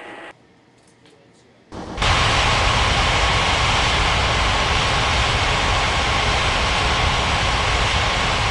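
A jet airliner in the air traffic control game Unmatched Air Traffic Control spools up for takeoff, a short quiet stretch giving way to a loud, steady, broadband engine roar that holds close and unbroken to the end.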